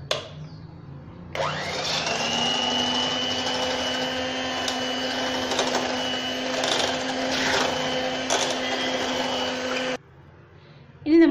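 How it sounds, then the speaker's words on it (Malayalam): An electric mixer beats vanilla cake batter at low speed, starting after a second of quiet and giving a steady whirring hum for about eight seconds before cutting off. A short sound follows at the end. "നമുക്കിതൊന്ന് ലോ സ്പീഡിൽ ബീറ്റ് ചെയ്തെടുക്കുക."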